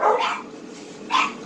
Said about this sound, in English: The doggies are barking.